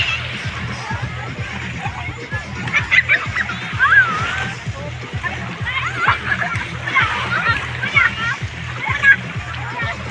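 Busy Sunday crowd at Talon Beach, with water splashing continuously and children's voices shouting and chattering close by, along with a steady murmur of people, under someone talking near the microphone.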